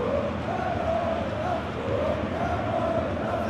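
Large stadium crowd before a Hellas Verona versus Inter Milan Serie A match, a steady, dense wash of murmuring voices and chatter with occasional swelling shouts, continuous throughout.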